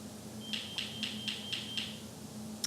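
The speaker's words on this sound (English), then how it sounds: "My alarm needs a new battery, and I don't have any 9-volt battery, so I do apologize that it just keeps incessantly going off." Smoke alarm needing a new 9-volt battery sounds six evenly spaced high electronic chirps in quick succession, indoors over a low background hum, fairly faint.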